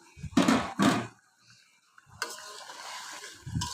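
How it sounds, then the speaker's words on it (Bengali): Cut, washed raw fish drops into a pan of frying spices in oil, with two sharp clattering bursts followed by a quieter stretch of sizzle and a final knock of the spoon against the pan, heard up close. "এই পর্যায়ে আমি এখন কেটে ধুয়ে রাখা মাছগুলো এর মধ্যে দিয়ে দিচ্ছি"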